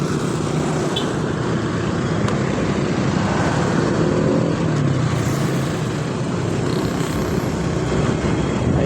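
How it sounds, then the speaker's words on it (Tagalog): Heavy late-night road traffic between Mabalacat City and Angeles, with cars and motorcycles passing in a continuous loud, dense roar that holds steady throughout. "Napakaraming sasakyan, gabing-gabi na."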